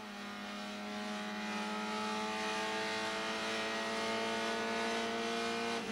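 A Honda Civic race car accelerates hard during a 1989 Procar race at the Zolder circuit, its engine holding a loud, steady high-pitched drone that climbs slightly in pitch and stays close and continuous throughout.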